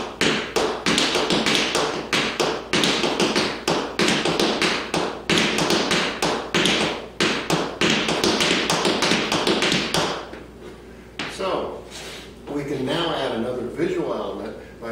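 Rapid, rhythmic Ozark jig toe-toe-heel dance steps tap and thud on a hard floor, loud and close, thinning out toward the end as a voice speaks.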